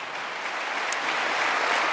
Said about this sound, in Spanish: dale ese aplauso al Señor, no te detengas si es para Él.